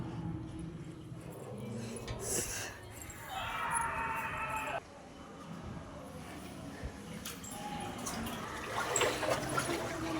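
Knee-deep water sloshing and splashing as someone wades through it at Surendrapuri, with intermittent trickling and a voice talking over the movement.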